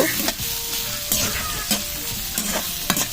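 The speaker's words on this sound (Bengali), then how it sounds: "পেঁয়াজ দিয়ে দিয়েছি। এবার ভালো করে নেড়ে চেড়ে দিব।" Onions frying in oil in a kadai are stirred with a spatula, sharp scraping strokes recurring about every half second over a constant close sizzle.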